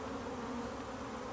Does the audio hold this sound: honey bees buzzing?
yes